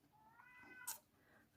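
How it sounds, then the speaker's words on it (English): A pet cat meows at a distance indoors in a quiet room, one drawn-out rising and falling call followed by a couple of short sharp noises. "Sorry if you can hear my cat."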